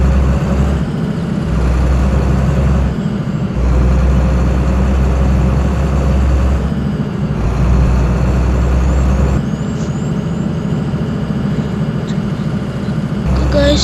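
A Kerala bus engine idles and rumbles loudly and continuously in a bus simulator video game, broken by sharp hissing bursts of air brakes released several times.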